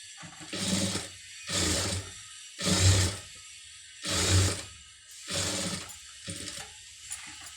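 A sewing machine stitches a pa-shaped neckline in bursts: six or so separate runs of rapid mechanical whirring, each about half a second to a second long, with short silent pauses between them and no talking.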